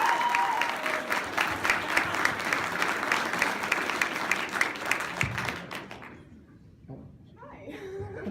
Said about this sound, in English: everybody give a round of applause for that